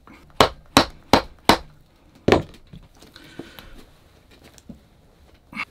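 Four quick, sharp hammer blows land in a row, then a fifth after a pause, as a handmade shoe is knocked loose from its last, followed by faint handling noises.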